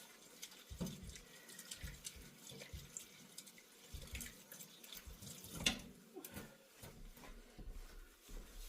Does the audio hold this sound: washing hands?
yes